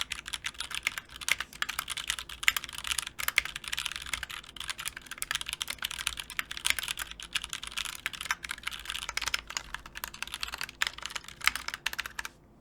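A custom mechanical keyboard typed on steadily for several seconds, dense crisp clacks in quick irregular bursts, close and clear, with no voices.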